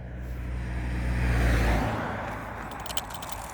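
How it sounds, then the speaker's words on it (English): Road cars pass nearby in steady traffic, one swelling whoosh building and fading within a few seconds against a constant low rumble. "Yeah, just getting traffic, guys, constant cars."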